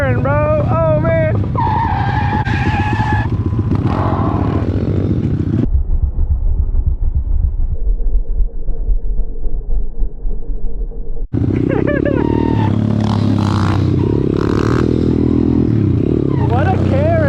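A pit bike revs loudly down a street with rising and falling engine whine and a brief quieter stretch midway, while people talk over it.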